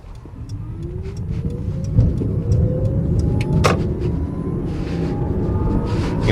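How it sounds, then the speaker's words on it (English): An electric Bluebird car pulls away from a stop, its motor whine rising steadily in pitch over a low road rumble, heard from inside the cabin with a few faint clicks and knocks. "You can definitely hear the electric motor doing its thing."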